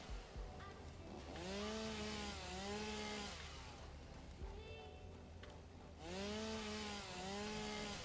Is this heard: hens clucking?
no